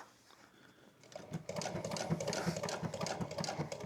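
Sewing machine stitching around a fabric corner, starting after a quiet second with a rapid, steady mechanical patter close by, no talking.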